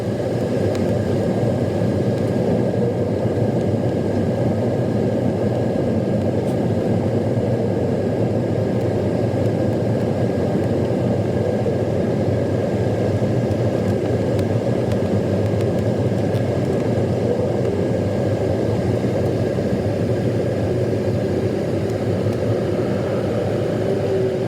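Passenger airplane landing captured from inside the cabin and sped up, producing a steady, loud, unbroken roar of engine and airflow noise with a faint tonal hum and no voices.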